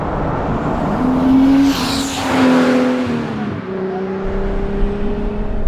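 A turbocharged 1974 BMW 2002 with a hot-rodded M3 powertrain accelerates hard nearby, its engine note climbing steadily and then shifting to a new pitch partway through, loud throughout with a rough, gravelly edge.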